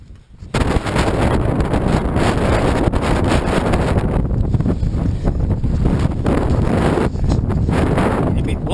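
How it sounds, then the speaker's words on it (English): Strong gusts buffet the microphone during a hill walk on Kinder Scout, a loud, steady wind roar that fills the whole stretch after a brief quiet start. "A bit blowy."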